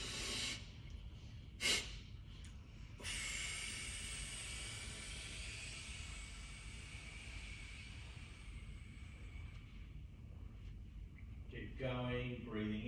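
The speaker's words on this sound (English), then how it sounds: "So breathing in through your nose, one quick one," A long, soft nasal inhale hisses through the nose during an office Pilates breathing exercise. A quick sniff comes first, and a voice speaks briefly near the end.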